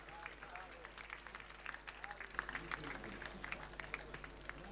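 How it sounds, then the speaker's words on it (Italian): Audience applause for two female fighters at the end of a traditional-rules Muay Thai tournament final bout in 2012, a steady patter of many hands at moderate level with crowd noise and some voices mixed in. "Un forte applauso alle due ragazze."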